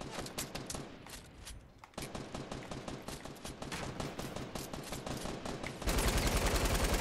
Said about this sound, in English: I got shot from the roof, dude.